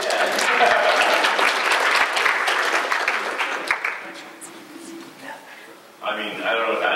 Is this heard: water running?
no